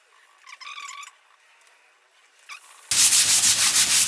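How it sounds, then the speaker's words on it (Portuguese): Sandpaper lightly sanding wood to create an aged patina, a few faint scratchy strokes followed by a steady, loud, close rasping scrub at the end, no voices. "aí uma lixada leve por cima"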